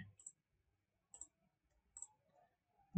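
Computer mouse clicks at a desk, three faint, crisp, evenly spaced single clicks in near silence.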